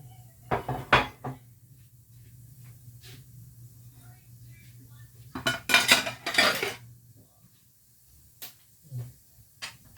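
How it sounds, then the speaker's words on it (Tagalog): An egg being cooked in a pan, with utensils clinking and scraping against cookware in short bursts, a brief hiss partway through, and a faint steady hum underneath. There are pauses between the bursts of sound. "Lutuin ko muna yung itlog ni Kulita."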